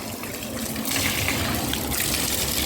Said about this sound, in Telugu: మెట్లకు నీళ్ళు పోస్తున్నారు